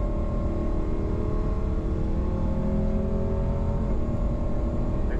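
A Clubman race car accelerates around a circuit, its engine droning steadily with a sustained harmonic whine that shifts slightly in pitch, heard alone without any talking.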